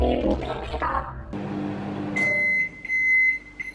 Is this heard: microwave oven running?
yes